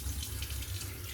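Water runs steadily from a bathroom tap while a razor is rinsed under it, a close, continuous splashing hiss with no voices.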